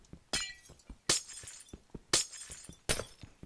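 Glass blocks shatter in the Minecraft modpack Chaoskraft 2, four crisp breaking crashes spaced about a second apart, with lighter clinks and taps between them.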